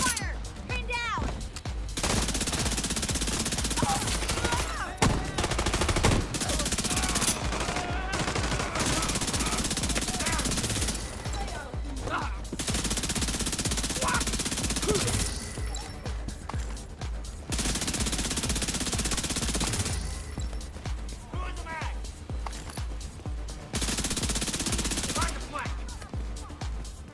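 Sustained automatic gunfire fills a firefight in The Division 2, loud and dense with brief lulls, mixed with explosions and game effects, while voices talk intermittently over the shooting.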